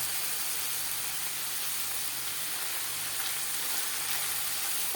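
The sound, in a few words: ingredients frying and being stirred in a pan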